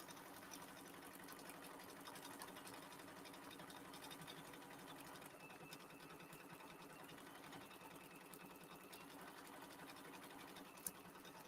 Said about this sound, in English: as it's stitching